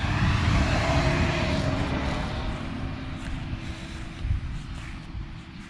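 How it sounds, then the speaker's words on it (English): A 2019 Ford Mustang GT with performance pack and active exhaust cruising, its engine a steady low rumble under road and wind noise inside the cabin, fading slightly then rising briefly. "We got the active exhaust."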